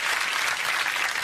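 A television studio audience on a chat show cheers and applauds for a birthday, a dense, steady roar of clapping and cheering lasting just over a second with no break.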